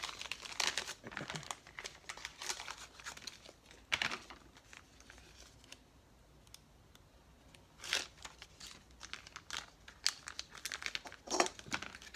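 Transfer paper for applying vinyl to a 3D candy apple is handled and crumpled nearby, giving intermittent crinkling bursts with a few sharper crunches over several seconds.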